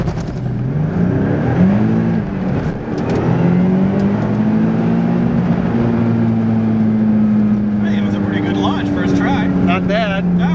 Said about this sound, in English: learn how to launch it with these tires on here on this car with this clutch